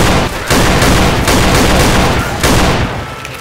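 A gun firing in Left 4 Dead 2, loud sustained bursts of rapid shots with brief pauses between volleys, close and dominant with no speech.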